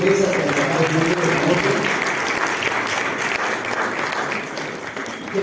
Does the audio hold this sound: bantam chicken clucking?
no